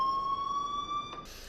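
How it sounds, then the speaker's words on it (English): Steady electronic alarm tone in the Unreal Engine game Life is Strange, a piercing pitched beep holding for over a second before a brief hiss of noise cuts in, loud and with no talk. "please turn off that alarm since that's your job."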